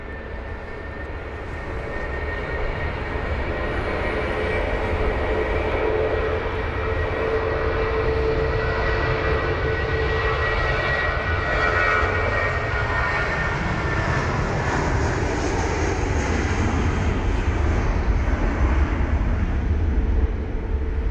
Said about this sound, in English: We've got the Airbus A350-1000, the British Airways also taxiing in front of us now.